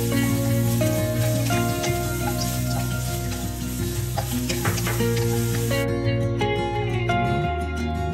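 Pork ribs stir-fried continuously in a pot for a pork rib and radish soup, giving a steady, close sizzle with scraping stirs throughout, backed by music and no talk.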